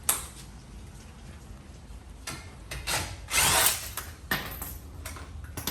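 A power drill whirs in short bursts while a Rough Country kit is fitted on a 4Runner: several brief spins of varying length, close and fairly loud, with quieter gaps between them.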